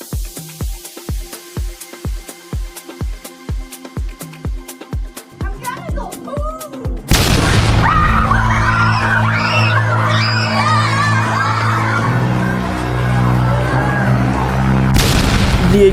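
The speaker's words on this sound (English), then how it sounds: "Now let's see the explosion." Footage of the Bali bombing, where a steady series of rhythmic pulses gives way to a loud sudden blast, followed by sustained roaring noise with crowd screams and yelling through the rest.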